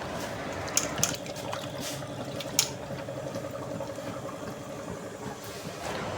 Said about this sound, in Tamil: முதல்ல ஒரு முறை வாஷ் பண்ணி எடுத்துட்டேன் இது ரெண்டாவது முறை வாஷ் பண்ணுறேன்